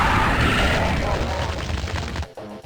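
Heavy weapons blasting in DOOM Zero on PS5, a dense, continuous barrage of loud gunfire and explosions that cuts off abruptly near the end.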